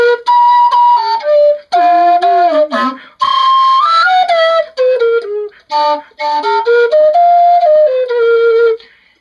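A penny whistle plays a winding melody in an unusual, non-Western scale, with short phrases, pitch bends and brief pauses, bright and close.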